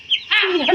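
A chicken gives a short close cluck, two quick bright calls in under a second, loud and alone.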